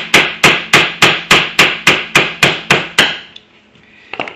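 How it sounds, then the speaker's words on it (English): About ten sharp, evenly spaced hammer taps strike a steel tool to drive a bearing out of a scooter transmission case, loud and close, each ringing briefly before the blows stop and a quiet workshop hush follows. "So just a couple little taps,"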